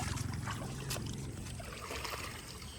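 A rowing boat on Phewa lake while a fishing net is cast from it, with close water sloshing and trickling against the hull and soft knocks from the boat. The sound is continuous and fairly quiet, with no one talking.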